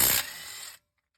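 A Ryobi impact gun hammers briefly at an 18mm bolt on a 2012 Ford F150, a loud, close, rapid rattling burst lasting under a second before cutting to silence.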